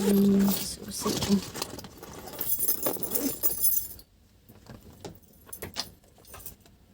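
A bunch of keys jangles with bright metallic clinks inside a home in Hong Kong, loud and near for a few seconds before the clatter fades into quieter shuffling, with a voice faintly present.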